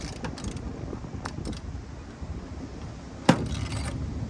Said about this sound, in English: take our wrench over here, put it on the other setting so we can close it